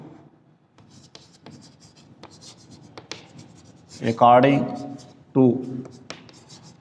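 Marker or chalk writing on a board during a physics class on thermal expansion of gases, a series of soft scratchy strokes with short pauses, under a teacher's intermittent speech.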